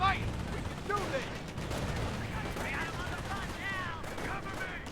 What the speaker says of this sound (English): Panzer Grenadiers receiving a bit of fire there.